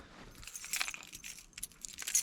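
Car keys for a 1986 Pontiac Fiero GT jangle on a key ring nearby, a few soft metallic clinks and rattles coming in small clusters.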